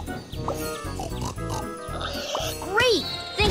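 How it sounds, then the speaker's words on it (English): Cartoonish pig oinks and grunts from a children's Lego train game, a few short squeals over bouncy game music with a child-friendly voice talking throughout. "Some pigs have wandered off from the farm."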